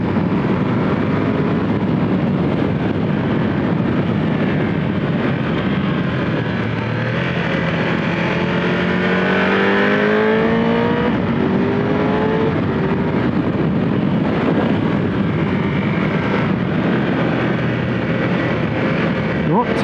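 A Triumph Tiger 1200 GT Pro motorcycle ridden hard into hairpins, its engine rising and falling through gear changes over steady wind roar, with a rider talking throughout.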